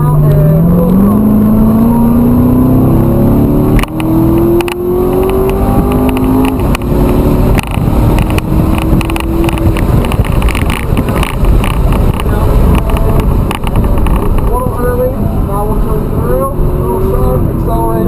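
A Chevrolet Corvette C7 accelerates hard at full throttle on a race track, its engine note climbing steadily and loud throughout, with wind buffeting and an instructor talking over it.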